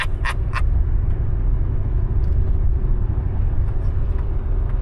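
Car driving into Crested Butte, a steady low engine and road rumble from inside the cabin, continuous and fairly loud, with a few brief higher clicks early on and no talking.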